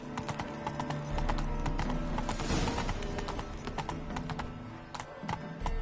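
Roach, the horse in The Witcher 3, gallops with rapid, evenly spaced hoofbeats close up, over a low rumbling background, with a brief faint neigh and no talking.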